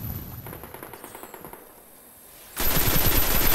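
Close gunfire from a shotgun during a free-for-all Rumble match in the Destiny video game, with rapid repeated blasts at the start and a loud sustained burst near the end.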